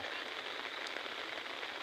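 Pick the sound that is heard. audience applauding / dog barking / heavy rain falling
heavy rain falling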